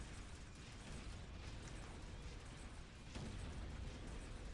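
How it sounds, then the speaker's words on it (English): A billboard being destroyed in Unreal Tournament 2004, a dense, steady mechanical rumble and crackle with a small jump in intensity near the end, heard without speech. "Billboard destroyed."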